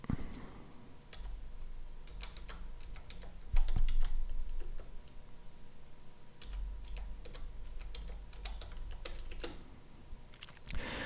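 Irregular clicking of keys on a computer keyboard, bursts of typing with brief pauses, fairly close and clear, no voices.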